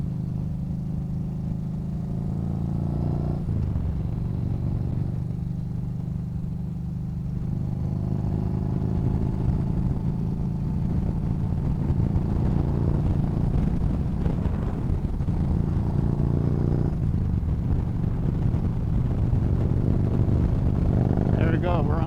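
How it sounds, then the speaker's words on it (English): A Yamaha Bolt motorcycle cruising at highway speed, a steady low engine drone under heavy wind buffeting, with a rider talking over it. "There we go, we're on highway speeds and this bike rides really nice."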